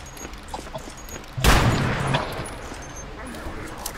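A sniper rifle in the video game Anomaly fires one loud, close, booming shot that rings out and decays over a couple of seconds, with faint background sounds around it.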